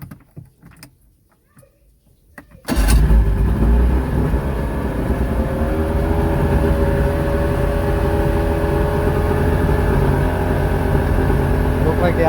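Outboard motor starts after a quiet moment and settles into a steady, loud idle running at a somewhat high idle speed, close by and continuous to the end.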